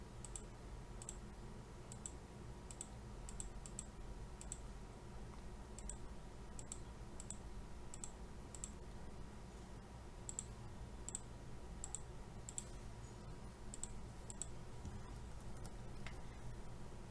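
Computer mouse clicks while drafting in AutoCAD, sharp faint clicks arriving in small irregular clusters over a low steady room hum.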